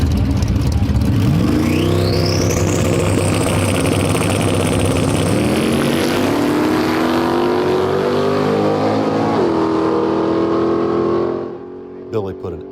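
The Falcon drag racing car roars down the strip in a single loud pass, its engine rising in pitch through the gears with sharp shift drops before the sound cuts off near the end.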